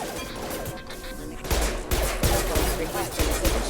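Gunfire rattles in the Mass Effect 2 video game: a dense burst of rapid shots and impacts that grows louder partway through, with a voice faintly underneath at the start.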